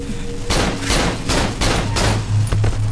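A rapid burst of loud gunshots fires in the dark tunnels of the Cry of Fear horror game, with several sharp blasts in succession and shorter shots trailing off at the end.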